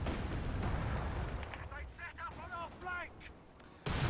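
Land Mattress rocket artillery barrage in Company of Heroes 2: a dense, continuous roll of booming blasts and crackling impacts, with a voice talking over the middle and a fresh heavy burst at the end.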